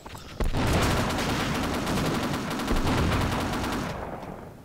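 A Half-Life Sven Co-op turret gun fires a sustained, rapid stream of loud shots, close and continuous for about three and a half seconds before cutting off.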